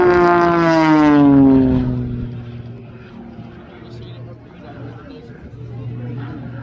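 An unlimited-class aerobatic propeller plane performs at the RAF Cosford Airshow, its engine note sweeping loudly downward as it passes close, then fading to a distant drone.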